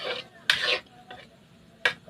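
Cabbage is stirred in a pan with a utensil, producing several short scraping clatters of metal against the pan in irregular bursts, close and fairly loud.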